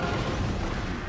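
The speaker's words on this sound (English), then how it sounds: "Let's drop some bombs." Bombs dropping in the Total War: Warhammer 2 video game, a continuous rumbling barrage of low booms rolling together for a moment, loud and dense with no pauses.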